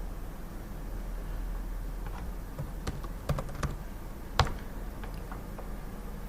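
Typing on a computer keyboard at a desk, scattered key clicks at an uneven pace with a couple of sharper taps, close and fairly quiet over a steady background hiss.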